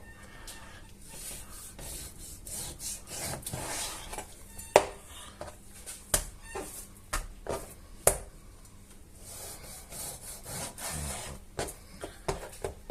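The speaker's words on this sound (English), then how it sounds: "I've got about 550-600 grams of pork, which I'm going to cut into cubes" Knife chopping 550–600 grams of pork into cubes on a wooden board, irregular sharp taps and soft scraping strokes, close and quiet with no talk.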